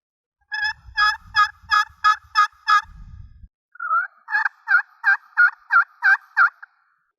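Two series of rhythmic yelps from a hand-operated turkey call imitating a wild turkey, loud and close, about seven evenly spaced notes each, separated by a brief pause with a second series a bit different in tone.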